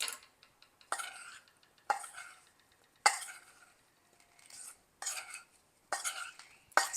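Soft scraping and tapping of a utensil tossing strawberries in flour in a bowl, in several separate strokes about a second apart, close and quiet.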